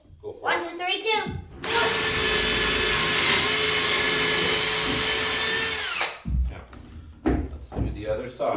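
A power drill drives screws into LP SmartSide window trim, whirring in one long continuous run at close range, with short talk and a voice before and after.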